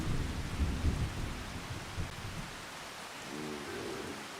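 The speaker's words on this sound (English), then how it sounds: "Looks like we're going to get some rainfall." Steady rain with low rumbling thunder in the farming game Farming Simulator 25 on the Lipinki map, a continuous wash of rainfall with a deep roll early on, heard alone without talk.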